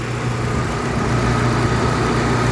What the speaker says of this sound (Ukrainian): Отак працює машинка.